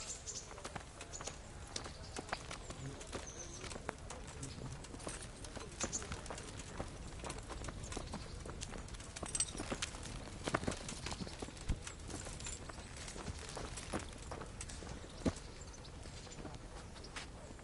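Horse hooves clip-clop steadily in the video game Kingdom Come: Deliverance, an even walking rhythm of close, crisp hoof strikes over outdoor ambience, with no voices.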